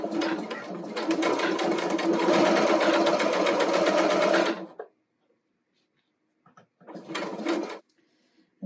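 Sewing machine stitching the hems on T-shirt sleeves: a steady, loud mechanical whir for several seconds, a pause, then a second shorter burst of stitching.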